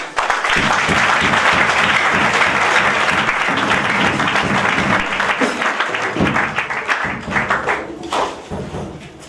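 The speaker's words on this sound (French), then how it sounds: "Sous vos acclamations." A church congregation applauds couples being presented at a Sunday service: loud, sustained clapping with some thumps, easing slightly near the end.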